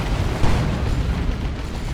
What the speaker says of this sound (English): he's gone for the plasma cannon there.